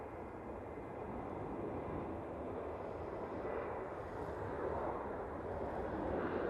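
A TUI passenger jet departing runway 05 left at Manchester Airport, a steady, broad, distant roar of engines that slowly swells without any talk.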